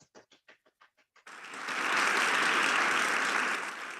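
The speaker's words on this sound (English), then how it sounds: "One more round of applause for the Security Council winner." A handful of sharp separate claps come first, then a full crowd at a Model UN closing general assembly breaks into sustained, loud applause for the Security Council winner.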